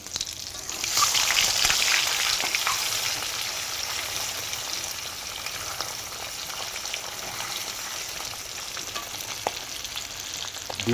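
Boiled eggs, slit open and tossed in hot oil, fry with a steady loud crackling sizzle that swells early then settles into an even hiss with occasional pops, no voices.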